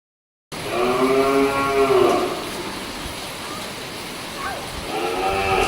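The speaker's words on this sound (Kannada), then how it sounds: "ಸೌತಡ್ಕದಲ್ಲಿ ಸುಮಾರು 250ರಿಂದ 300 ಹಸುಗಳಿದ್ವು ಅಂತ ಅನ್ಸುತ್ತೆ." Cows at the Soutadka MahaGanapati temple cattle shelter moo in long, loud calls near the start and again at the end, with a quieter stretch of shelter ambience and faint distant lowing between.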